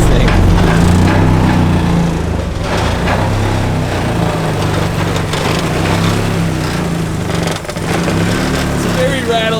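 A rough, rattly Mazda RX-7 FD with a Honda K-series engine swap idles steadily up close, chugging and clattering with faint talk mixed in.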